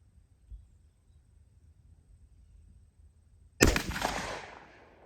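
.357 Magnum round fired from a 4-inch Colt Python revolver on an outdoor range, a single loud sharp gunshot after a few seconds of near silence, followed by a ringing echo that fades over about a second.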